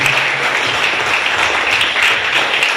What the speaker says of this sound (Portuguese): Então aplauda bem forte